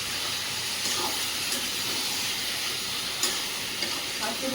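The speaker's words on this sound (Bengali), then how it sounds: "মাংস এদিকে কষানো চলছে" Goat meat sautéing in a pan, a continuous broad sizzle with occasional spoon scrapes and clinks, close and fairly loud, with no talk.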